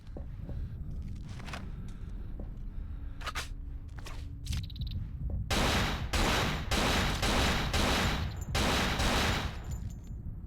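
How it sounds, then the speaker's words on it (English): Gunfire in the survival horror game Cold Fear (2005, PC), starting with a few scattered single shots, then a sustained run of loud, rapid bursts from about halfway through. "Jeez, I'm terrible at shooting."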